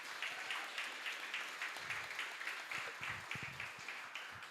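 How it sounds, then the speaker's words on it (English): Audience at a mayoral candidate forum claps for a local collaborative, moderate applause with individual claps audible, steady for the whole few seconds. "So if you could please give a round of applause to the Just San Bernardino Collaborative"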